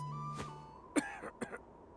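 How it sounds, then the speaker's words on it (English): Several short, close coughs from a character in the video game Octopath Traveler, with a faint musical tone beneath them. "Cough, cough, cough!"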